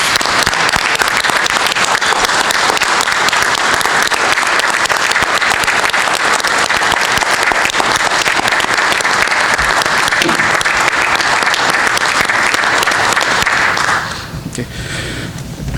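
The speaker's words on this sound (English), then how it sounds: "If you will join me in a big round of applause for these officers." A board meeting audience gives a round of applause for officers, loud sustained clapping from a crowd that runs for about fourteen seconds and then cuts off to quiet room sound.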